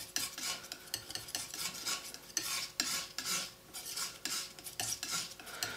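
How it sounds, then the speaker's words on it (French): A painting knife scrapes and mixes oil paint on a palette, with white, earth tones and a touch of yellow, making continuous rasping strokes in quick uneven bursts, close and fairly loud, no talking. "je mélange un peu avec ce qui reste sur la palette pour pas qu'il ait un côté trop vif"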